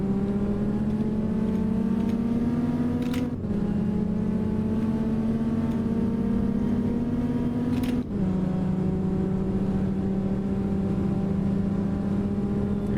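A Dodge Viper in a racing video game launches and pulls hard through the gears, a loud steady engine drone climbing in pitch with two quick dips where the gears change, and no voices.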